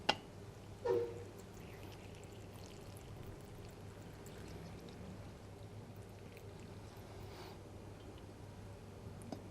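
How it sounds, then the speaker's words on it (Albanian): Hot water is poured into a teapot over quince tea leaves: a quiet gurgling pour near the start, then a faint, steady low hiss for the rest. "në të hedhim ujë që ta përvëlojmë atë"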